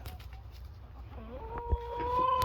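A few soft chicken clucks and a brief squawk near the end over quiet outdoor background, fairly close, at an apiary.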